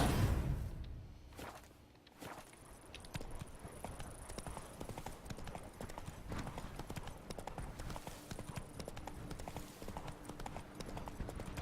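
Horse hooves clip-clop in a steady, brisk rhythm, fairly close and continuous, after a short whoosh at the start, in The Witcher 3: Wild Hunt video game.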